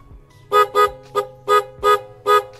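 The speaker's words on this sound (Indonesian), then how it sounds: "Terus untuk klaksonnya" A custom classic-style Honda GL100 motorcycle sounds its horn in six short, loud beeps, two quick ones then four more evenly spaced, over a low idling engine hum.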